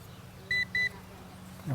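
Two short, high electronic beeps from a G11 Mini beginner drone controller in quick succession, clear over a low background hum.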